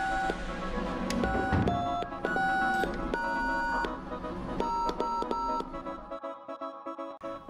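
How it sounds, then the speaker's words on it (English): A vintage telephone at a hands-on exhibit being dialed: a run of clear electronic tones and beeps in quick succession, some short and some held, ending with softer fading clicks, with faint room murmur beneath. "Dial up a song on a vintage telephone."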